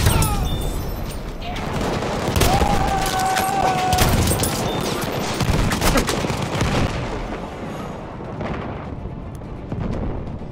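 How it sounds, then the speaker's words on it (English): Battlefield 1 machine-gun fire chatters through a dense, loud battle din of shots and booms, with a voice briefly heard amid the noise. "Enemy machine gun sighted!"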